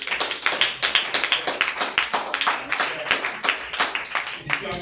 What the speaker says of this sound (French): applaudis pour le roi des rois